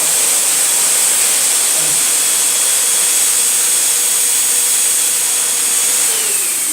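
A fogger machine sprays hypochlorous acid disinfectant vapor, making a steady loud hissing and whirring blast with a faint mechanical hum underneath, continuous and unbroken.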